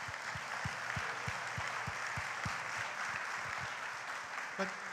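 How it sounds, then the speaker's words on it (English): A crowd applauds at a university athletics Hall of Fame induction ceremony: a faint, steady hiss of many hands clapping, with regular low thumps beneath it and a brief bump near the end. "Let's give her a round of applause."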